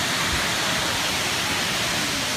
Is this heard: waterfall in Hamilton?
yes